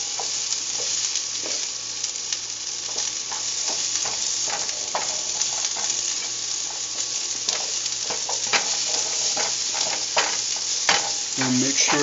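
Asparagus sizzles steadily in a hot pan while being stirred, with scraping clinks of a utensil scattered throughout; frying crackle stays continuous and fairly close, with no talking.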